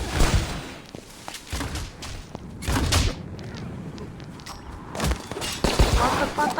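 Repeated game explosions and gunfire bursts thump irregularly, some sharp and loud, others muffled, with voices occasionally chattering underneath.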